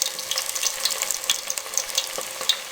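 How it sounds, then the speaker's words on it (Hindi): Fish frying in hot cooking oil over a low flame, giving a steady bright sizzle scattered with small crackling pops, close and moderately loud. "कुकिंग ऑयल बहुत अच्छे से गर्म हो चुका है। अब इसको हम फ्राई करेंगे।"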